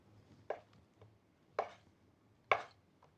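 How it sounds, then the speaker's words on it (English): A knife trims and chops pecorino cheese on a cutting board, making three sharp, distinct chops at even intervals, close and fairly quiet, with no talking. "The rind of pecorino is soft, but I'm still gonna trim it."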